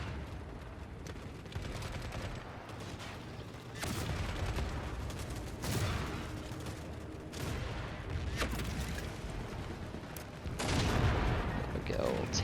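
Sustained gunfire and explosions during a tank battle in the game The Forever Winter, with heavy bursts swelling at intervals over a dense, continuous battlefield din.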